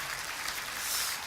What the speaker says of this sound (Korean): 여러분 뜨거운 박수 다시 한번.